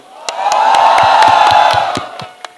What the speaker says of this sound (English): Guys, if you've seen Kabir Singh, please give us a huge cheer